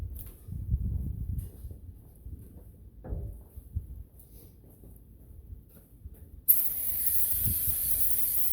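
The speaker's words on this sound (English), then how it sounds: "Spray that off." Cleaner is sprayed from a can onto drips after an oil change. A steady, close, sharp hiss of spray starts abruptly after a stretch of low, muffled rumbling and handling noise.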